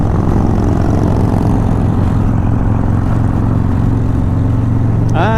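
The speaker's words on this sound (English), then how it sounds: "And I could hear his pipes already, that's why I knew he was coming. Those pipes, those Reinhardts are pretty loud." Loud Rinehart exhaust pipes on an approaching motorcycle on a road trip through California: a dense, throbbing engine roar rises close and loud under steady wind and road noise.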